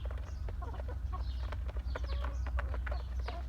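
Newly bought Arab breed chickens cluck and chatter close by, a busy run of short, overlapping calls over a low steady hum, with no talk.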